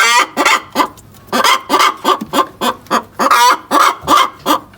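A hen clucks loudly and close to the microphone, giving a rapid, steady series of sharp, repeated calls that continue throughout without pause.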